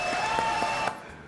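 Applause from a studio audience on a French radio show, a dense patter of many hands clapping at moderate loudness that fades out near the end.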